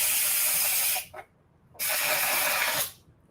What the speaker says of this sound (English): For when you want to release the steam? It gets so messy.